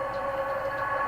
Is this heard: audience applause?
no